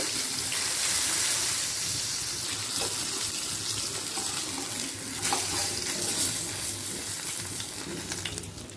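Rohu fish sizzling loudly in hot oil, a dense continuous hiss with faint pops and a few clinks, close up and without speech.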